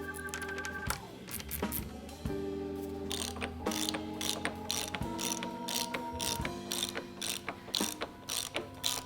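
A ratchet clicks in quick repeated bursts while tightening the fork caps on 2-inch-over forks on a Harley Dyna, with close metallic pawl rattling interspersed with brief pauses.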